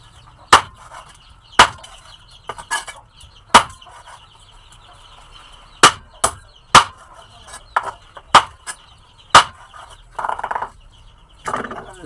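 Heavy bolo knife chopping chicken pieces on a cutting board, with a string of sharp, loud chops in an irregular rhythm that bunch together toward the end.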